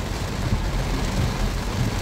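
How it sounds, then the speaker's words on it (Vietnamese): Heavy rain pours down steadily and close by, a dense continuous hiss and rumble with no voices over it. "Trời mưa khá là to rồi chị ạ."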